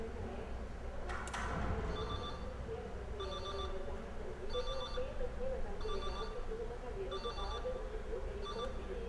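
A telephone rings while a call is placed to Mato Grosso from Brasília. Short ring bursts repeat about once a second over a steady background hum.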